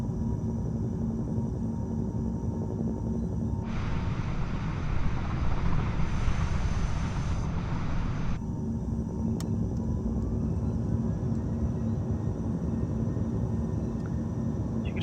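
An airplane cruising in Microsoft Flight Simulator 2020, a continuous loud engine drone and rumble that brightens into a broader roar for several seconds midway before settling back to a steady hum.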